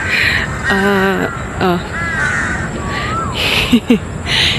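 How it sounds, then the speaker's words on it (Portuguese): Crows caw repeatedly in a Bangkok park as birds take off, harsh calls close and loud against steady park ambience, with a few sharp flutters near the end. "os passarinhos saíram tudo voando"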